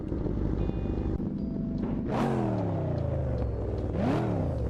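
A Volvo truck engine in a driving simulator game hums steadily throughout, with two rising revving sweeps where the engine climbs in pitch, loud and continuous with no talking.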